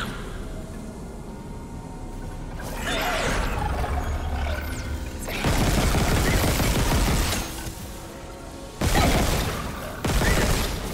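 Loud bursts of gunfire erupt in the Dead Space remake, several sustained volleys of rapid shots separated by brief lulls, over a low droning, growling sci-fi ambience.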